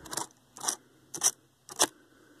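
Metal screwdriver tip digging at a small screw lodged between the keys of a Dell Latitude laptop keyboard, four short scraping, crackling bursts at an even rhythm, close and fairly quiet.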